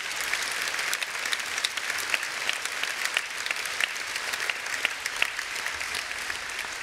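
An audience at the UNISON 2024 conference applauds a speech with sustained, even clapping and a few sharper individual claps standing out, heard at moderate distance for about seven seconds.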